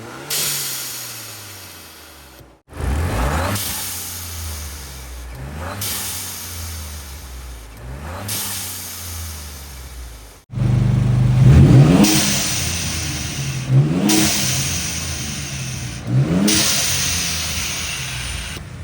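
A Ford 2.3-litre EcoBoost engine with an aftermarket turbo blow-off valve is revved hard again and again, each climbing surge falling away with a whooshing release, loud and close with no voices.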